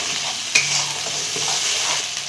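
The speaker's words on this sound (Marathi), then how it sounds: "आपल्याला छान मसाला परतून घ्यायचा तेल सुद्धा तर चांगला मसाला परतून घ्यायचा" Spice masala sizzles in hot oil at close range for a village-style stuffed modak amti curry, with one sharp scrape of stirring early on and a steady crackle afterward.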